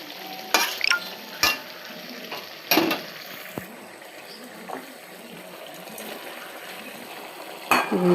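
Potato and pumpkin curry sizzles in a pan as pieces of fried rohu fish go in, several sharp knocks and scrapes of stirring over a soft steady fry, close and moderately loud.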